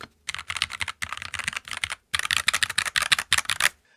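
Someone types quickly on a NuPhy Halo 65 wireless mechanical keyboard, giving loud, close, clacky keystrokes in fast runs with a brief pause mid-way.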